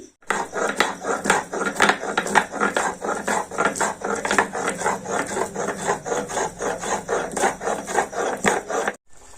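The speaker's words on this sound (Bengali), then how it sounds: "একটু গরম মশলা দেবো, তার জন্য আমি একটু বেটে নিচ্ছি" Garam masala spices are ground by hand with rhythmic rasping strokes, several per second, close and steady throughout, then stopping abruptly at the end.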